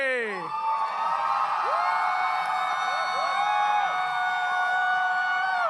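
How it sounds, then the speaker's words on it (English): An audience cheering and whooping for Bugs Bunny in a Bugs Bunny vs. the Hulk matchup, a dense sustained crowd roar with rising whistles and yells layered over it from start to finish. "Let's hear it by applause and cheering"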